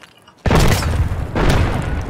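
A grenade blows up in Escape from Tarkov with a sudden loud boom after a quiet moment, then a rumbling tail and a second blast-like surge about a second later, alone without talk.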